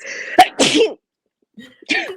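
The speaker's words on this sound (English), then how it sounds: "But I'm gonna sneeze." A single sharp sneeze up close, with a short breathy intake before it, then quiet and a brief vocal sound at the end.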